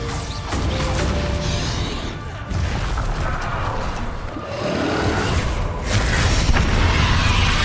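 Explosion spells Confringo and Bombarda going off in Hogwarts Legacy, heard as a dense run of booming blasts and crashing impacts over steady game noise, loud and continuous with short breaks between bursts.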